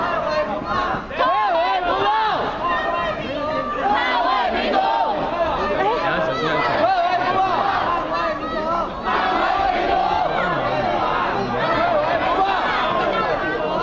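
A dense crowd of protesters stuck at a police line during the Sunflower occupation of the Executive Yuan roars and shouts continuously, loud and close, with chanting voices and general hubbub filling the scene.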